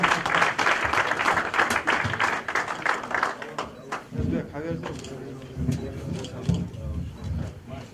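Audience applause for a contestant invited to the stage at a religion quiz event in Ingushetia, a dense burst of clapping up front that thins out while someone speaks over a microphone.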